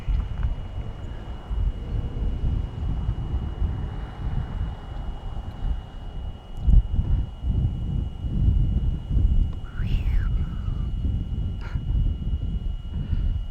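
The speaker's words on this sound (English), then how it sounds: "gusts are dying down at the moment" Wind gusts buffet the microphone during a GoPro Hero11 Mini drone flight, a constant low rumbling roar that swells and dips, with a faint steady tonal whine above it and a brief chirp near the end.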